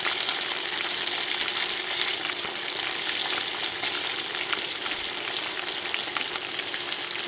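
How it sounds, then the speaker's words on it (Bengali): Chicken wings fry in a pan with a dense, constant crackling sizzle that holds steady and close throughout, with faint stirring underneath and no one speaking. "আমি উল্টে পাল্টে ভালো মতো মুচমুচে এবং লাল টুকটুকে করে ভেজে নেব।"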